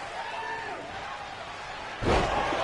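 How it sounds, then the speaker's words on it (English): A wrestler is knocked down onto the ring at a live wrestling show, with one heavy slam over a continuous crowd murmur. "Down goes Benji again"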